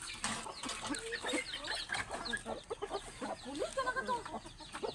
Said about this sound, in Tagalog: Yung manok na walang balahibo sa leeg.